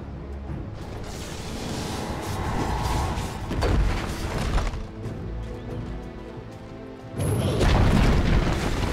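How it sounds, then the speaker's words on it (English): A Dire middle tower collapsing in a Dota 2 match gives a loud booming crash amid dense game noise, with a heavier burst of rumbling impact near the end. "Dire's middle tower has fallen."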